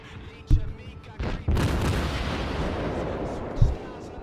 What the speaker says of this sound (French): c'est des bruits de tir de canon d'un bateau